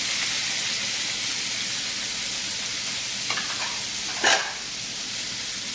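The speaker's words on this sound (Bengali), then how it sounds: "ক্যাপসিকাম কুচি আর পনিরের কুচি। হালকা করে একটু ভেজে নেব।" Chopped capsicum and paneer fry lightly in a pan with an even, soft hiss, broken by a faint tap and then one sharp utensil clink near the end.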